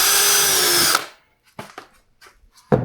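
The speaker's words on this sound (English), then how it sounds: "And then just drill it." A power drill whirs loudly for about a second while drilling a hole in an Old Town Malibu PDL kayak, then stops, followed by a few short knocks and clatters nearby.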